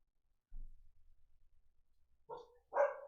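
A dog barks indoors at a distance, with a few sharp barks near the end after a stretch of quiet low rumble.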